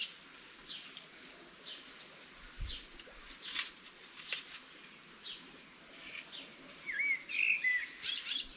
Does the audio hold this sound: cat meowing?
no